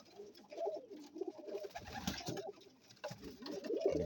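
A male pigeon coos close by in a repeating series of soft, throaty, rolling calls, with short gaps between them and nothing else around.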